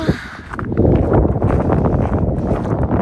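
Strong wind blowing through a snowy residential neighbourhood in the United States during a winter storm, a loud continuous rumbling buffet against the microphone that swells after the first half second and holds steady, close and dense, with no speech.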